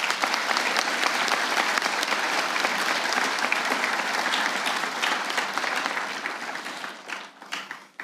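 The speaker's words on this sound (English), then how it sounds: "so let's give them a round of applause" Graduation audience at a high school commencement applauding the graduates' parents, dense sustained clapping from a large crowd filling the space, then thinning and fading out toward the end.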